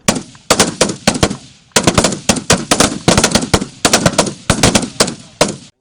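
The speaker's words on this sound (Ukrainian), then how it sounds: "старшокласники пройшли вогневу підготовку з автоматами АК-74" Sustained bursts of automatic fire from AK-74 rifles at a shooting range during school military training, loud and close, with rapid cracking volleys and short pauses between bursts, no talking.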